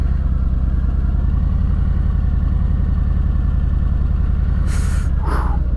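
A 2019 Harley-Davidson Fat Boy 114 rumbles steadily on a test ride, its loud, low, even engine throb continuous throughout, with brief wind gusts near the end and no talking.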